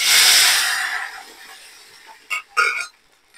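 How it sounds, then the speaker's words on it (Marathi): Hot tempering of oil and spices hits a pot of dal palak with a loud, close hiss that fades over about a second, followed by a few short clatters. "फोडणी देताना असा चर्र करून आवाज आला पाहिजे, तर चांगली फोडणी बसते."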